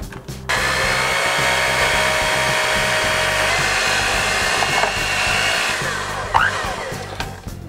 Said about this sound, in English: using an electric hand mixer to speed this up, we're gonna combine all those ingredients together